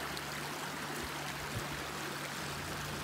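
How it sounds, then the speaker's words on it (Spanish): A clear mountain river in Gatlinburg, Tennessee, flowing with a continuous, even rush and gurgle of water, close and steady with no voices. "Este río está divino, cristalino."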